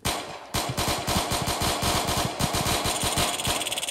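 Rapid gunfire in Roblox Jailbreak, a fast run of loud, evenly spaced shots that starts after a brief pause and keeps going over a steady engine-like drone.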